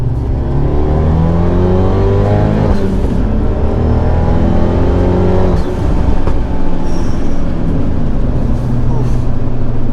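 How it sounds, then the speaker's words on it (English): The engine of a widebody Abarth 124 revs hard while accelerating in second gear, its loud, steady, rising drone filling the cabin and climbing in pitch until a brief dip at the shift. "that second gear rip felt good"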